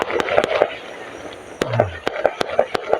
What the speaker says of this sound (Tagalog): Nakita pa tayo ng fireworks.